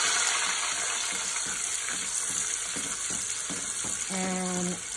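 Spoon stirring vanilla into a hot chocolate toffee mixture in a pot, soft scraping strokes under a steady sizzle, with a brief faint tonal hum near the end.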